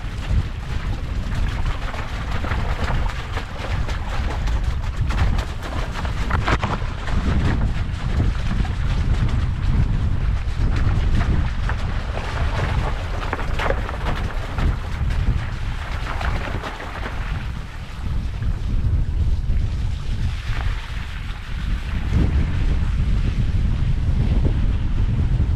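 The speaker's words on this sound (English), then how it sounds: "Here I am riding in the stream now." An electric mountain bike rides through a stream on a rain-soaked trail near Windermere, giving a continuous loud rush of splashing water and wind buffeting across the whole stretch.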